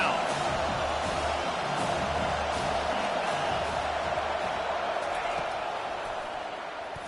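A home stadium crowd in the college football video game NCAA 25 roars steadily as the defense faces third down, a broad, sustained wash of cheering noise that fades slightly toward the end, with a commentator speaking over it.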